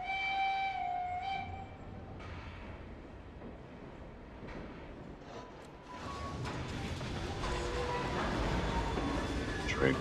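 Train in the Assassin's Creed Syndicate game, a steady rumbling rail noise with a sharp whistle or horn tone early on, building louder in the second half under faint background voices.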